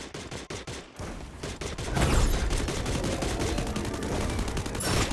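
Rapid bursts of shotgun and automatic gunfire in the Free Fire battle-royale game, dense, loud and continuous, with a sharper burst near the end.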